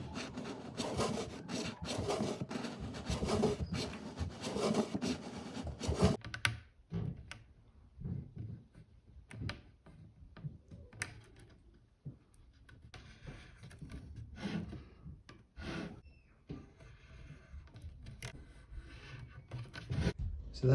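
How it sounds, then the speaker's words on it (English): A wrapped drum shell is run along a blade to trim the wrap, giving dense scraping and rubbing bursts at first, then sparser rasps, taps and shuffles of handling, close and without speech. "you can simply run the shell along it and it'll cut through the wrap"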